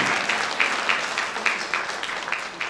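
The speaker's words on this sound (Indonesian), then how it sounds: "Tepuk tangan untuk kita semua." Applause at a university engineering faculty Halal bi Halal gathering, a crowd clapping steadily with a few sharper claps near the front, fading slightly toward the end.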